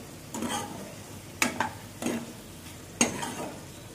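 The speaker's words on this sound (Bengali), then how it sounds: "আমরা এখানে টমেটোর সাথে আলুটাকে কষিয়ে নিচ্ছি" Potatoes and tomato fry in a pan under a soft continuous sizzle, with four distinct scraping stirs of a spatula spaced about a second apart, close and clear.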